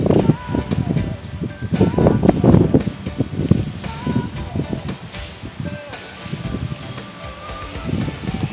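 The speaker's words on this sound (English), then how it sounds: "The wind is killing." Strong gusts in dark, cold Cape Town buffet the microphone with loud low rumbling bursts that rise and fall unevenly, while someone talks over the roar.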